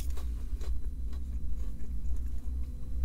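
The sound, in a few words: biting and chewing crispy McDonald's chicken nuggets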